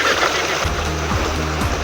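Strong river current with choppy waves, a loud, steady rush and churn of water close to the microphone, with low rhythmic sloshing pulses repeating throughout.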